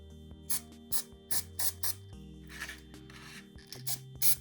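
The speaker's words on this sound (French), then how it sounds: "Pour coller les paillettes, j'utilise de la colle en spray que j'achète au magasin Action." Aerosol spray glue hisses in several short bursts, then a few longer sprays, applied to a glitter-covered craft wand; the spraying is fairly close and loud with no voices.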